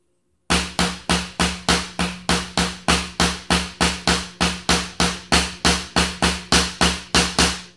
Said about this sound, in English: they'll play the paradiddle something like this.